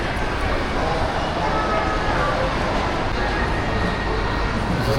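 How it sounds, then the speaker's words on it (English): A small train runs inside a shopping mall in Medan, Sumatra, Indonesia, making a continuous rumbling clatter that blends with the busy indoor crowd's murmur throughout. "This mall has everything. It's even got a train."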